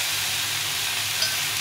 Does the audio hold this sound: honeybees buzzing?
no